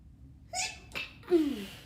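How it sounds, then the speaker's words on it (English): A single sneeze, a quick sharp intake then an explosive burst, close and fairly loud against a quiet background. "I gotta sneeze."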